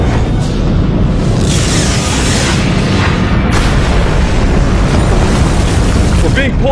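A sci-fi movie explosion is a massive, continuous rumbling roar that fills the whole stretch at high loudness. It is dense and booming throughout, with no clear pauses.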